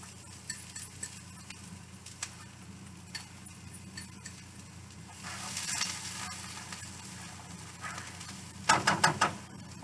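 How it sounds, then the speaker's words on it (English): Onions sizzle steadily in a hot pan for chicken enchiladas, a continuous crackling hiss with occasional pops and a few clattering stirs near the end. "I love that sizzle sound"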